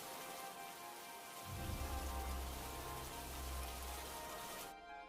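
Steady rain patters in a Hindi cartoon story, a dense hiss that swells with a low rumbling layer partway through before cutting off abruptly near the end.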